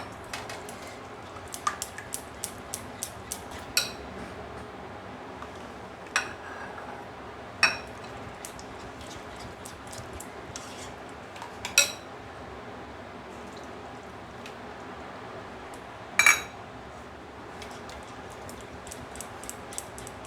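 A spoon stirring milk into mango pulp in a bowl, giving sparse light clinks and soft liquid ticks spread over a quiet, faintly hissing background, close with no talk.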